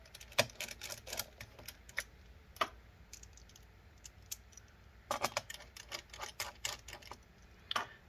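Screws are driven back into an HP 15-R014TX laptop, making scattered bursts of small, sharp clicks and ticks close up, with quiet pauses between and no talking.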